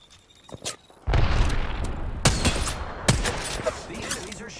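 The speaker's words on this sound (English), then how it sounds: "The enemies are shooting at me." Enemy gunfire in Apex Legends, loud repeated bursts of shots and booming impacts following quiet opening taps, with a few sharp peaks standing out through dense ongoing combat noise.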